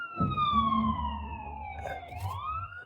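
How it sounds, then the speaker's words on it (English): Ambulance siren wailing steadily through heavy traffic, a long descending then rising sweep with strong harmonics, fairly close and loud over a low road rumble, with no talk over it. "Oh, we got an ambulance coming up."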